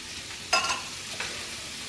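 Canned sausage meat goes into a pan with flour, bringing a steady sizzle with a sharper splash as it lands and a second smaller burst moments later, close and unaccompanied by speech.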